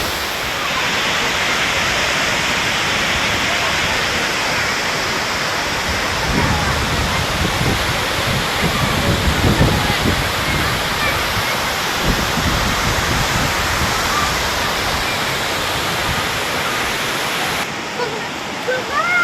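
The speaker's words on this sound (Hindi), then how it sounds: "ये देखें बहुत बड़ी वाटरफॉल है।" Manthoka waterfall in Skardu roars loud and steady, a dense, unbroken rush of falling water heard close for the whole stretch, with wind in the background.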